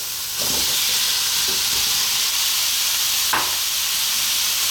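Potatoes frying in olive oil in a pan, a loud continuous hissing sizzle that starts as they drop in, with a couple of brief stirring scrapes, close up and without speech.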